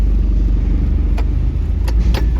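A car drives slowly into the hold of a ferry boat travelling between the Canary Islands, a steady loud engine rumble inside an enclosed space with a few brief clanks and rattles.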